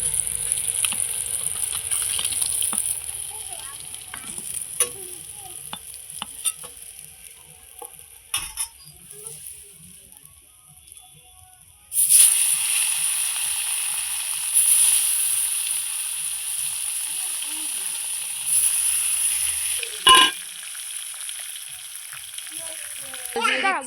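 Black cumin seeds and green chilli fry in hot oil, a steady bright sizzle that flares louder halfway through, with occasional clinks of a utensil stirring in the pan.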